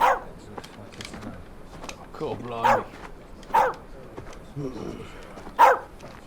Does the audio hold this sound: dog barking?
yes